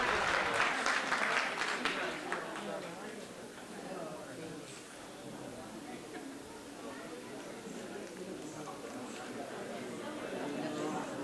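An audience at a Tamil stage performance applauds after the act, with dense clapping strongest at the start that then thins into a scattered, softer patter mixed with crowd murmur over about eleven seconds.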